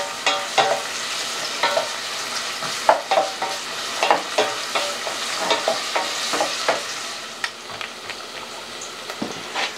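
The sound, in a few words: sautéing onions and garlic, stirring in a pan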